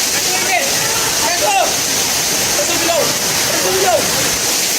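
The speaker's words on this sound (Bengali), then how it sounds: "মারাত্মক ঝর্ণা ভাই" A waterfall at Jaflong in Sylhet pours with a constant loud hiss and splash, close by and unbroken, while people call out and talk over it.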